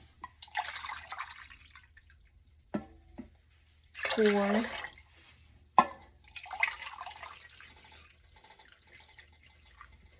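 Water is poured into a soup pot holding broth for Mexican meatball soup, in several separate bursts with short gaps, while a person talks in between.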